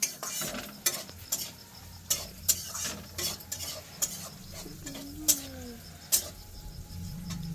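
Biryani is stirred and mixed in a pot at an outdoor village picnic feast, a spoon scraping and clanking against the metal in repeated sharp strokes over a soft sizzle.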